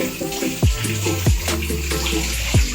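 Water is poured over a young girl's head during her bath, splashing steadily with a few sharper gushes and sloshes, close and loud, with no voices.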